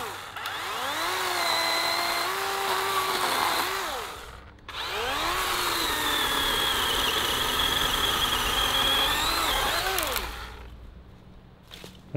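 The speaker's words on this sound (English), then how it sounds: "That's a good test of a chainsaw" A chainsaw revs in two long, loud bursts, its whining motor rising and falling in pitch, with a short pause between them.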